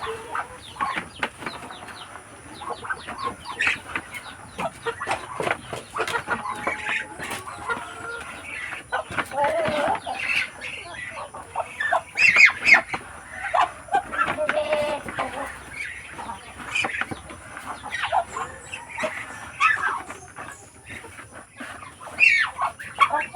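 Young pullets cluck and chatter busily during a morning feeding of feed on a Philippine livestock farm, a dense, steady mix of close and distant bird calls with occasional wing flaps and faint crowing.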